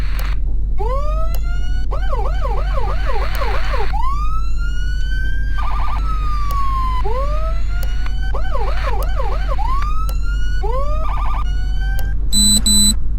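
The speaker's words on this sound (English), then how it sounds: "So we're going to test out our sirens and everything, our lights and whatnot." Emergency vehicle sirens from the video game Flashing Lights cycle through wail, yelp, hi-lo and rapid phaser tones, loud and close over a low engine drone, ending with a short electronic horn blast.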